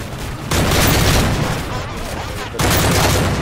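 Bursts of video game gunfire fill the clip in two loud, dense stretches separated by a brief dip, close and sustained like rapid automatic fire.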